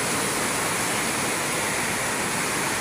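Floodwater pours into a house basement during super typhoon Carina, giving a steady, dense rushing hiss with no breaks and no voices.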